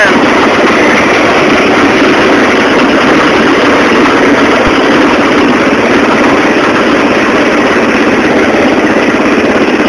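A mud mower's engine runs steadily in second gear at about 10 miles an hour, a loud continuous drone filling the whole stretch with no break.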